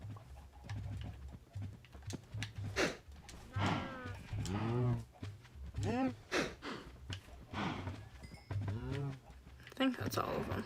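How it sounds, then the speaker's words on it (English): Cattle lowing in a farming video game, with several drawn-out moos rising and falling one after another over a steady low hum, while a person talks throughout. "Cows. Oh, cows."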